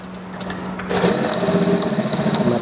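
Sewing machine stitching an elastic waistband onto a school skirt, a soft steady motor hum that turns into a fast, even mechanical clatter after the first second, with no voices.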